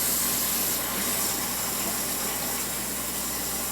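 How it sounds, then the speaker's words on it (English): Warm water gushing steadily from a tap while brewing a Christmas ale, a loud, close, continuous broadband rush with no talk over it. "So we'll just get the warm water going."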